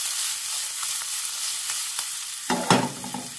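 Mushrooms stirred in a frying pan with fresh coriander, a steady sizzle with soft scraping strokes, then a louder burst of spatula scraping and clatter near the end.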